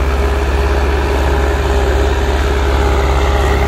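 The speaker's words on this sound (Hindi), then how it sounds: "सोनालिका वाले भाई ने पूरे RPM खींच रखे हैं ट्रैक्टर की" A heavy Sonalika tractor engine roars loudly and steadily at full revs, a continuous deep drone close by with no let-up.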